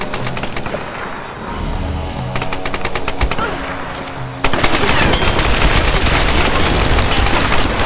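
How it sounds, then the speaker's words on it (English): Rapid machine-gun bursts and single shots rattle loudly and without a break through a Tomb Raider multiplayer match, the fire growing denser and louder halfway through. "bullets flying"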